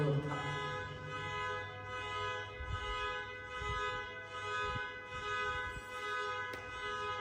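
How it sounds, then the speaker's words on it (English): A vehicle horn sounds outside, a sustained toot with steady harmonic tones running through the whole stretch, moderately loud behind indoor room tone. "might be you are listening some honk, so this is from outside"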